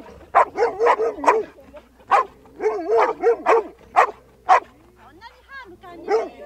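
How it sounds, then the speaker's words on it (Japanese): A small dog barks in quick yappy bursts, close by, with whiny yips between, while people talk over it. "イブタン、 私が一緒だと吠えるのかな。"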